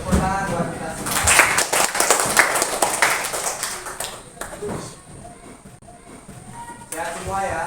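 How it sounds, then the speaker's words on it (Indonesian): Clapping from a class of fourth-grade pupils in a school classroom, a dense run of quick claps under chatter and children's voices that thins out and then picks up again near the end. "tepuk tangan buat kita semua"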